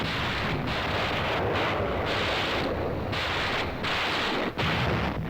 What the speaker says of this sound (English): Ships of the UN fleet fire point blank at the island. Rockets join the softening up process.